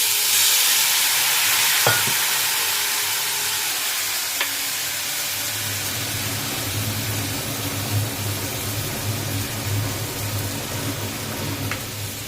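Turmeric and cumin powder frying in a pan with water just added, giving a steady hiss and sizzle that settles into a continuous bubbling simmer.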